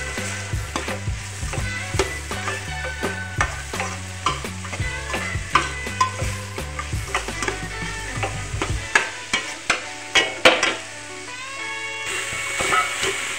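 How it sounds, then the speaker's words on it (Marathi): Shredded cabbage is stir-fried into a momo stuffing mixture in a pan, sizzling steadily while a spatula taps and scrapes in a quick, uneven rhythm, up close and loud. "आता मी यामध्ये पत्ता कोबी टाकून देणार आहे आणि हे मिश्रण एकजीव करून घेणार आहे"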